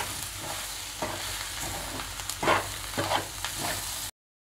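Potato slices and onion mixture frying in a pan are stirred, with scraping strokes and bursts of sizzling over a steady frying hiss.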